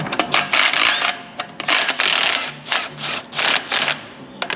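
Ratchet wrench undoing bolts, a loud close series of rapid clicking bursts, several quick ratcheting runs with short pauses between them.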